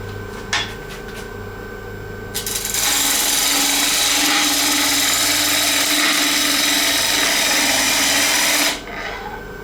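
A power tool smooths the edges of a turned wooden piece, a loud steady grinding rasp that starts after a couple of brief scrapes and runs for about six seconds before cutting off.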